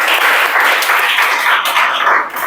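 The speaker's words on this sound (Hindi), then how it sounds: "बहुत सुंदर, ताली बजाओ" A classroom audience at a lecture breaks into loud, continuous applause, many hands clapping together in a dense close roar that stays steady throughout.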